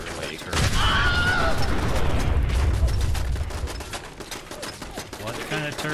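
Rapid bursts of turret gunfire in the Fallout 4 video game, dense and loud, crackling steadily throughout with a brief drop in intensity near the end.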